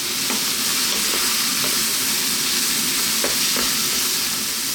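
Fresh white mushrooms fry over lively heat in a pan, producing a loud, dense, unbroken sizzle with faint taps of stirring, close up and without any talking.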